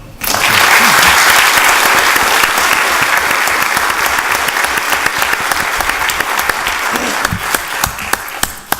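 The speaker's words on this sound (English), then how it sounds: "Another round of applause for the Honorable Judge Chuy Garza" An audience at a formal meeting gives loud, sustained applause that starts abruptly and continues dense and steady throughout, thinning slightly toward the end into a few scattered claps.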